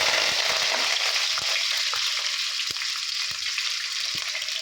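Onions fry in a pan already holding fenugreek seeds, giving a steady, loud sizzle throughout with occasional faint clicks of stirring.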